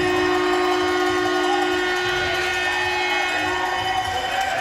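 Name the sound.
steam whistle blowing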